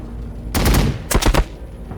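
Gunfire in Warhammer 40,000: Battlesector, two loud, close bursts of rapid shots about half a second apart over a low game background.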